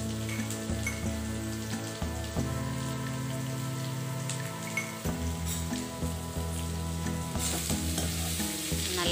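Grated carrot sautés with salt in a pan for carrot rice, giving a steady, fairly loud sizzle with repeated stirring scrapes throughout and no voices.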